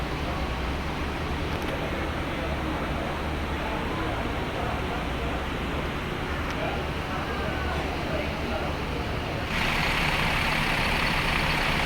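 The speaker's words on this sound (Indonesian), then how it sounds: "Ini adalah bus kita untuk keberangkatan jam 7 malam nanti ya." An intercity bus at a Purwokerto station ahead of an evening departure to Denpasar, Bali rumbles at idle in a steady, loud, continuous drone, with someone talking over it.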